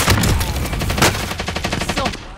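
Rapid automatic gunfire in Call of Duty: Modern Warfare, loud and continuous bursts of shots with dense rattling repetition that slowly trails off, no talk over it.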